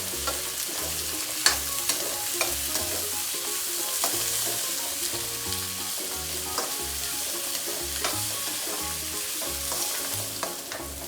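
Onions fry and get stirred in a pan for paneer bhurji, a steady close sizzle broken by regular scraping strokes of the spoon, with no voices.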